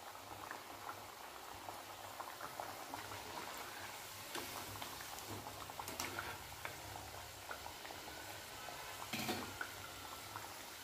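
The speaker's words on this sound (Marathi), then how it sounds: "अशाच पद्धतीनं बाकीचे पण तळून घ्यायचे" Chirote pastries deep-frying in hot oil give a steady bubbling, boiling fizz with soft crackles and a few brief louder bursts, close and continuous with no one talking.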